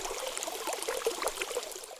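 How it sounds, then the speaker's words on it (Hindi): Water is poured onto an ox in a Hindi cartoon, a continuous close splashing trickle that runs for about two seconds and then stops. "किसान जल्दी से पानी लाता है और उस पर डालता है।"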